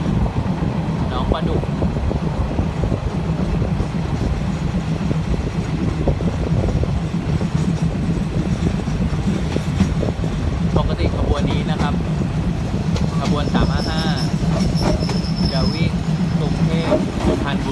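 Suburban passenger train 355 rolling into Nong Pla Duk Junction terminus in Thailand, a steady rumble of wheels and carriage noise with faint metallic squeals and clicks, heard from inside the train as someone talks over it.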